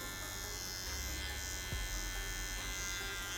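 A lightweight Xilda electric hair clipper hums and buzzes steadily at close range, a constant motor drone with a slight shift in pitch partway through.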